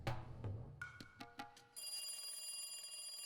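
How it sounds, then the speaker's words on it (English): A telephone rings in the Higurashi video game, opening with a few short electronic rings and then a steady, sustained ringtone. "As soon as I put the phone down, it rang again."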